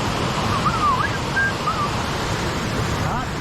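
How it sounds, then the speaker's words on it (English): A rushing waterfall in Upper Michigan gives a steady, loud broadband roar throughout, with faint whistling or bird-like chirps drifting over the top. "you can see the waterfall behind me right there"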